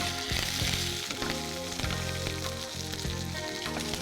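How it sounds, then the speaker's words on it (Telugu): Curry leaves tempering in hot oil give a loud, dense, continuous sizzle and crackle close up, with no talking. "ఓకే, కొంచెం కరివేపాకు కూడా వేసుకున్నాము"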